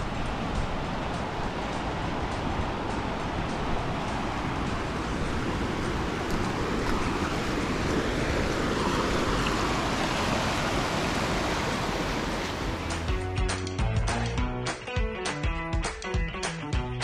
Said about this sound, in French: il y a une petite cascade là-bas